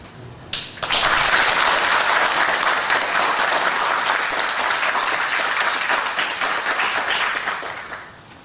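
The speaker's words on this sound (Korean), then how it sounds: "우리 목사님 나오실 때 뜨거운 박수로 환영하겠습니다." A church congregation breaks into loud, sustained applause welcoming a pastor to the pulpit at a Korean church's 50th anniversary service; the clapping surges in after a brief pause, stays dense and steady, then tapers near the end.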